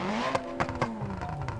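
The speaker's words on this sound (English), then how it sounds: "I like the sound of the Vivace FCV quite a lot," Vivace FCV car engine in the BeamNG driving game, revving with rising and falling tones and a few sharp gearshift-like bursts, close and loud with no talk.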